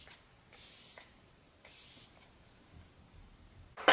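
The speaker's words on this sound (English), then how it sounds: "I'm gonna spray the Glam Glow Glow Setter makeup setting spray" Glam Glow Glow Setter makeup setting spray mists out in three short hissing bursts, close and clear, separated by quiet gaps.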